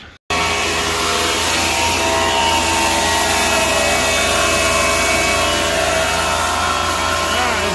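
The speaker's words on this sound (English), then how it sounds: "He's gonna plane those down" A wood planer runs loud and steady for nearly the whole stretch, planing kiln-dried boards in an outdoor workshop setup that blows the shavings into a bin; a brief quiet moment comes just before the machine sound starts.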